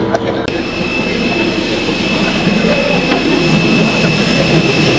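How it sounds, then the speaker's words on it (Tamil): Jet engines of an airliner at an airport, a loud steady roar with a sustained high whine, continuous throughout, near and dominant. "பாருங்கள் ஏர்லைன்ஸ் ஃப்ளைட் வந்துருக்கு பாருங்க"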